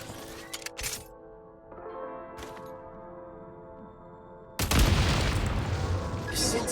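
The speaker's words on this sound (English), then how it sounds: "Shoot the explosives to detonate them and clear the path." Explosives detonating in Genshin Impact, with sharp cracks and short booms early on, then a loud, sustained crashing blast of debris that fills the final seconds.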